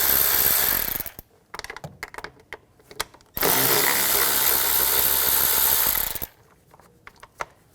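Ratchet wrench with an 8mm socket backing out screws from a cover on a 2013-2019 Ford Escape 2.0L, two long bursts of rapid clicking separated by a short pause and followed by a few scattered clicks, close and alone.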